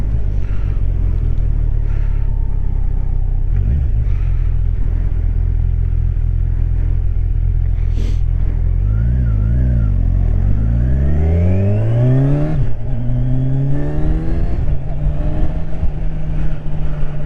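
A Kawasaki Ninja 1000 SX motorcycle engine drones steadily, then revs up sharply past 4,000 rpm, climbing in pitch to a high, loud whine; no talking.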